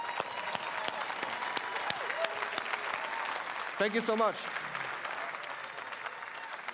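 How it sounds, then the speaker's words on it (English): Audience applause at an EGX 2018 gaming expo stage presentation with IO Interactive about Hitman 2: a steady patter of quiet claps fills the clip, and a voice briefly says thanks partway through. "why don't we give all these lovely, amazing, talented people a quick round of applause"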